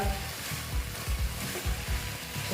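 Moong dal and bori being stirred and fried in a pan, a steady sizzle broken by rhythmic scraping strokes of the spoon, close and moderately loud.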